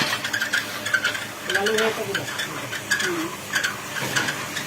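An electrically driven puffed rice machine empties rice from rotating iron pans, giving repeated scraping, rattling and metallic clinks in an uneven rhythm over a steady mechanical background, with possible faint voices.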